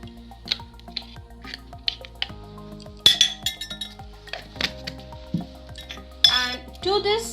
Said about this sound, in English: take a deep glass bowl, and here I will be taking 4 tablespoons of ghee